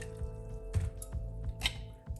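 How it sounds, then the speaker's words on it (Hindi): Water pours into a chopper holding finely chopped fenugreek leaves, a short splashing, dripping fill in a kitchen, close and moderately loud. "इसी चॉपर में मैं 1 कप पानी डाल देती हूँ"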